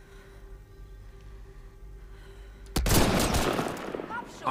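A quiet stretch of low hum, then a sudden burst of loud, rapid gunfire in the game Mass Effect: Andromeda erupts and keeps rattling densely to the end, like a firefight.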